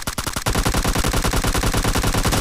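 A rifle with a 3x scope in PUBG Mobile fires in a quick, loud, unbroken automatic burst of evenly spaced cracks, close and harsh, with no talk over it.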